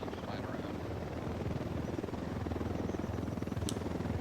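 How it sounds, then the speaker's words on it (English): A video game helicopter flying around, a steady rhythmic rotor thump with a broad engine roar that holds at a constant loud level throughout. "I think the helicopter keeps flying around."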